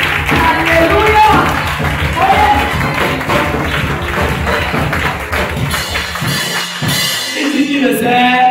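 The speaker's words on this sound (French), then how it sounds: "Acclamez pour la gloire de Dieu" A church congregation claps along during a French-language worship service, steady rhythmic hand claps mixed with crowd noise and voices throughout.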